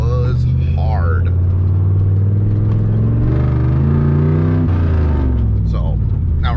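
A 1995 Ford F-350 with a 460 big-block V8 and an EFI throttle body kit drives unloaded. The engine gives a loud, close, steady rumble that rises and falls through the gears, and a voice speaks over it.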